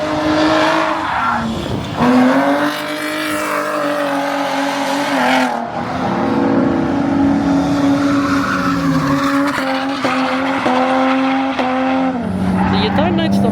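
A drift car's 1JZ six-cylinder engine revs hard and bounces off the limiter while tires squeal, loud and close, with shouting voices mixed in.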